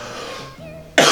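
A person coughs once, sharply and loudly near the end, after a moment of quieter throaty breathing sounds.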